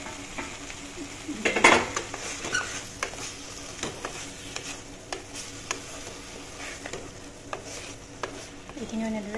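Spiny gourd with cumin fries quietly in a pan, a soft steady sizzle marked by spoon scrapes and clinks, one louder scrape standing out early.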